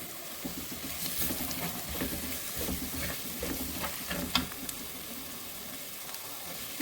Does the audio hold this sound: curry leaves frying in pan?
yes